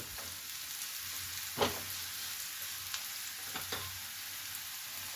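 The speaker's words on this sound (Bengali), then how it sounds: "এবার এক এক করে পরপর সমস্ত সবজিগুলোকে আমি ফ্রাই করব" Vegetables frying in a pan for a healthy chicken salad, with a steady soft sizzle and a few sharp spatula stirs and scrapes at intervals, no talking.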